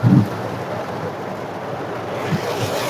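Heavy rain on a flooded city street, a steady close broadband wash of falling water with a brief louder splash at the start.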